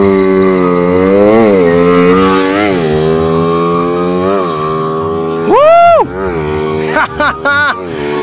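A Suzuki Raider 150 FI super stock motorcycle engine revs loud and close during a speed test. Its buzzing tone swells and dips, then climbs sharply in a hard rev, followed by a few quick throttle blips.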